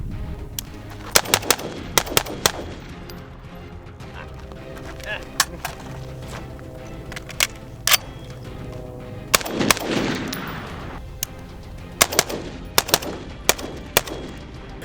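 Bursts of FN SCAR rifle gunfire crack out in quick clusters of sharp reports, some rapid strings and scattered single shots, loud and close against a steady background.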